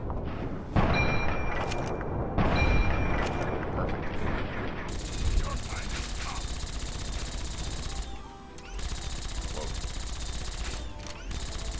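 Gunfire aimed at an enemy's head in the Fallout 3 video game, heard as loud, sharp mechanical shots and clattering weapon bursts layered over game noise and a speaking voice.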